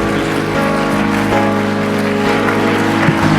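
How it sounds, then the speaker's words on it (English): Church congregation applauding, a broad continuous wash of clapping with a steady hum or music underneath, loud and sustained without pauses. "Let's give them another big round of applause."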